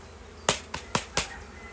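Honeybees at a backyard beehive buzz against a steady hum, with four brief, sharp knocks or taps close by in quick succession.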